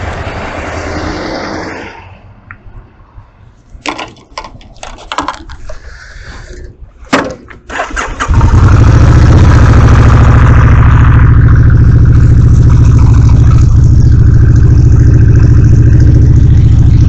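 A motorcycle engine sputters through a few uneven bursts, then catches and settles into a loud, steady idle that holds for the remaining eight or so seconds.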